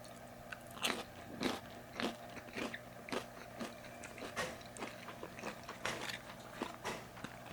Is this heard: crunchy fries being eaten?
yes